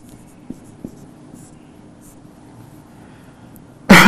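Handwriting with a pen on a surface during an English lesson, faint scratching strokes and a couple of light taps in a quiet room, ending in a sudden loud burst of noise.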